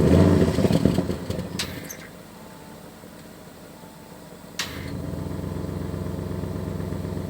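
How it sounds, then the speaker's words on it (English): An Audi RS6 Avant wagon warms up: loud engine roar settles to a quieter idle hum, then a sharp click and a fuller, louder exhaust drone as the valves open, heard close from inside the car. "Let's hear the exhaust, the warm-up"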